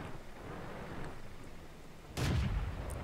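A single loud tank cannon shot in World of Tanks, a sudden heavy boom with a rumbling tail that rises out of quiet engine ambience near the end.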